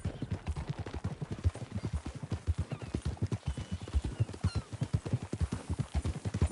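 Horse hooves clip-clop in a steady rhythmic trot in Red Dead Redemption 2, dozens of evenly spaced close thuds continuing throughout with no talk.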